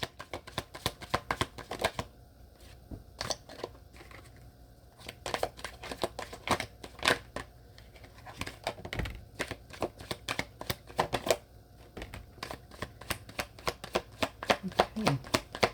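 Tarot cards being shuffled by hand, a dense run of crisp riffling snaps and soft flutters repeating in quick bursts throughout, close and fairly quiet with no talking.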